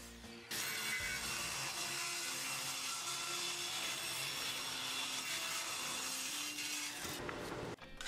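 A small piece of English walnut is sawn with a power saw for about seven seconds, a loud, steady, close cutting whine starting abruptly and cutting off near the end, with no speech.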